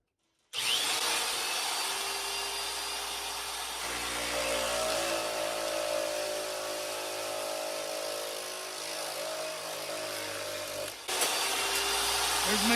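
A power tool cuts a sheet metal patch for the floor pan of a 1972 VW Super Beetle: a continuous harsh whirring grind runs for about ten seconds, shifting in pitch, then pauses briefly and resumes.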